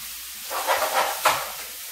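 Noodle bowl with spinach heating in a pan, giving a steady steamy hiss and soft sizzle with a few brief swells, close and moderate in level, no voices.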